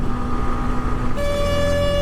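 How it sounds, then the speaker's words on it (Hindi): A bus sounds its horn in a long continuous blare near Brij Ghat by the Garhmukteshwar railway station, loud and close over road traffic noise, the pitch of the tone shifting partway through. "और ये बस वाला हमको पूरा हॉर्न मार रहा है"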